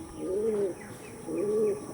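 A pigeon coos twice in soft, rolling phrases with a short pause between them, close by and fairly quiet in an otherwise calm setting.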